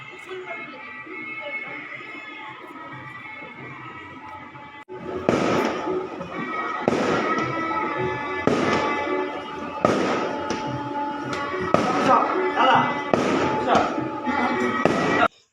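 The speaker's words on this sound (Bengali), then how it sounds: "বাজি ফাটিয়ে দেখতে পাচ্ছ" Fireworks burst at a wedding, starting after a quieter stretch with a crackling hiss and then a run of loud, repeated bangs and crackles at irregular intervals.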